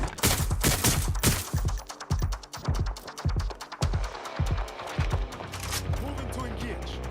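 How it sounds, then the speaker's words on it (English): Rapid gunfire from Watch Dogs: Legion rattles in dense, repeated bursts of sharp shots, loud and continuous, later thinning into scattered cracks over a low rumble. "Getting shot at here."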